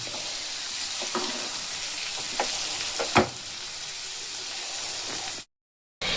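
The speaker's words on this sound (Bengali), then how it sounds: "এবার খুব ভালো করে ভাজা মশলাগুলো মিশিয়ে নেব" Fried spice masala stirred in a pan, a steady close sizzle with a few sharp scraping knocks of the spoon against the pan, ending in a brief cut to silence.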